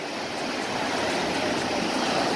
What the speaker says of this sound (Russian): Вот посмотрите, какие сегодня волны.